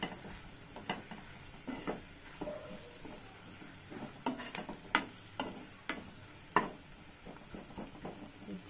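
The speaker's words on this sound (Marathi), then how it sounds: "आपण याच्यामध्ये आता टाकणार आहे हे खोबरं लसूणची बारीक केलेलं वाटण। त्याला पण छान असं हलवून घ्यायचं।" Ground coconut and garlic paste stirred into reddish fried onions in a pan for mutton sukka: faint, soft sizzle with irregular close taps and scrapes of the spoon against the pan.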